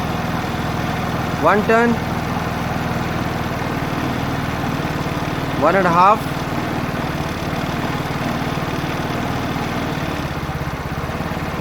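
50cc petrol scooter engine idling steadily while its mixture screw is turned during tuning, a constant buzzing putter that keeps running as someone briefly speaks twice over it.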